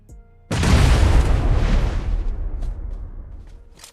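A grenade explodes in a battle royale video game: one sudden loud boom that hits after a brief quiet lead-in, then a rumbling tail fading over a few seconds.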